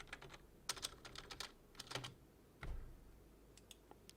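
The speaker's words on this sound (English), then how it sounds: "I can now type in telephone numbers with leading zeros" Telephone numbers typed into a spreadsheet on a computer keyboard: quick irregular clusters of crisp key clicks with short pauses and a louder thump near the middle, close and quiet, no voices.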